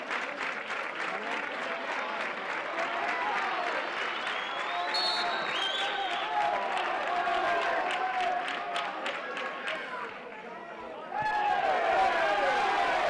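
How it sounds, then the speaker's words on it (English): Spectators at a Spanish regional amateur football match, CD Trabuco against FC Malaga City Senior, roar and shout for a free kick, a continuous crowd din with whistles and cries that surges louder near the end. "Crowd baying for a free kick there"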